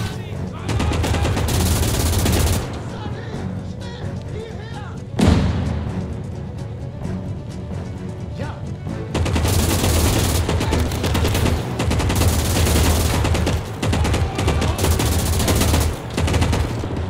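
Gunfire fills a Call to Arms - Gates of Hell multiplayer battle, with dense rattling machine-gun bursts and rifle shots and a heavier boom partway through, loud and almost continuous.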